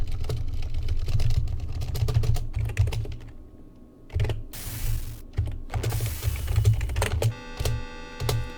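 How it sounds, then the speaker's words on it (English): Rapid typing on a computer keyboard during a DOSBox game speedrun, with dense close-up key clatter in bursts and short pauses, plus a few sharper clicks and thumps. "I'm sorry if the typing is really loud"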